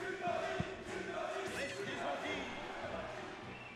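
A tournament crowd at a Super Smash Bros. Melee match cheers and shouts in a broad, steady roar, with excited voices and game sounds mixed under the noise.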